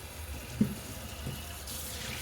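Tap water runs steadily in a kitchen as hands are rinsed, a soft continuous wash with one small splash near the start.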